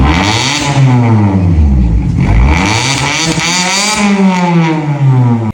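A loud car engine revs hard at a car club meet-up, its pitch rising and falling as it roars close by and passes, then revs up again.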